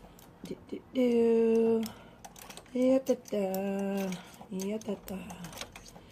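A sewing machine stitching a top runs in several short bursts of whirring motor whine, separated by pauses with clicks and handling sounds, close and fairly loud.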